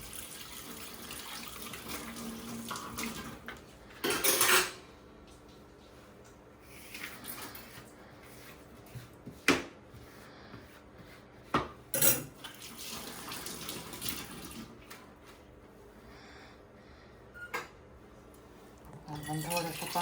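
Brass and copper pots being washed with soap and vinegar at a kitchen sink: irregular sharp metallic clinks and clatters of vessels over a steady background of running water, with a few louder knocks spread across the clip.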